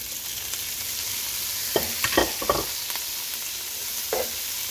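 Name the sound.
stir-frying bean sprouts with onion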